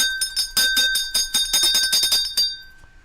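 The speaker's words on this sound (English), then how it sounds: "I'm gonna ring the bell." A bell rings out repeatedly in a radio studio during a morning show, about a dozen bright, sharp strikes in quick succession, loud and close, fading out with a lingering tone at the end.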